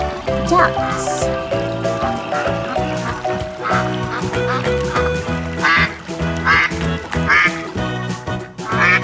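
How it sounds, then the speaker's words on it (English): Duck quacks ring out over busy toy-farm music, a few sharp calls standing above a steady melodic backing, fairly loud and close. "Ducks."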